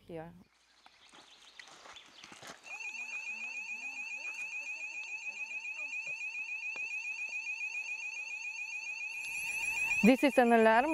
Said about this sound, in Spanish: Se disparó la alarma porque nos acercamos demasiado al sistema de vigilancia